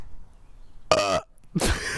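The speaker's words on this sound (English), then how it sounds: "A burp." A person burps during a podcast recording, two short guttural belches close to the microphone, the first lower and croaky and the second breathier, with quiet background between them.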